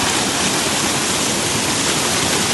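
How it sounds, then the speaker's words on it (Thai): Small waterfall in a rural area after heavy rain, a steady broadband rush of falling water, close and constant with no pauses. "เป็นน้ำตกตาดตาดไม่ยาว"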